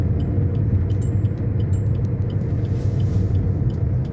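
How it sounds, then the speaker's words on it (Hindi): A vehicle approaches on a fog-covered road near Haridwar, a steady, loud low engine and tyre rumble that holds constant throughout, with no voices. "ये गाड़ी आ रही है देखो"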